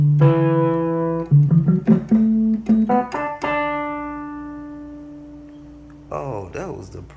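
A homemade sampler plays a minor pentatonic scale as a run of clear, sustained synthetic tones, some notes held and some quick, rising step by step and fading into a long decaying note before a brief wavering tone at the end.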